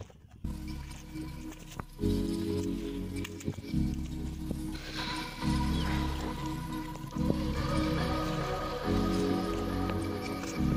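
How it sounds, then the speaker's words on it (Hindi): Steady broadband patter of light rain fills the scene, with occasional louder knocks and a low hum underneath; no voices. "और माशाल्लाह बारिश भी हो रही है हल्की हल्की सी।"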